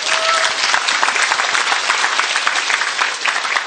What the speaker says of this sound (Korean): 이게 되게 박수 한번 칠까요?